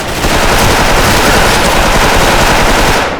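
Rapid, loud, continuous machine-gun fire from an M4A1 rifle in the online shooter Special Force, a dense unbroken burst close up with no talk.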